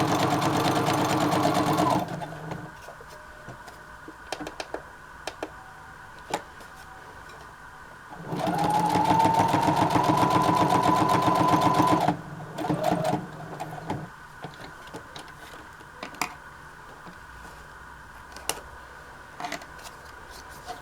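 A sewing machine stitches fabric pieces together for handmade cluster pieces, running in two loud sustained bursts of about two and eight seconds, separated by quieter pauses with scattered light clicks and handling taps.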